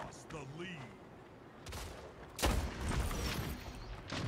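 Shotgun blasts from the video game Splitgate, a burst of booming shots near the end after quieter in-game sounds, with a voice briefly heard early on.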